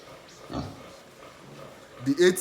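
Breeding pigs grunt in two or three short, fairly loud bursts near the end, after a quieter stretch with some faint voice-like sound early on.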